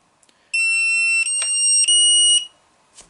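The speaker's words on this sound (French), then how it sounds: "Il va biper s'il y a une erreur de branchement." A Pulstec Ultra 200 battery charger sounds its connection-error alarm, one loud, shrill, continuous electronic beep lasting about two seconds, alone in a quiet room.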